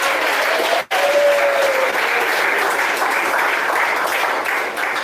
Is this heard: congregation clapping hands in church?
yes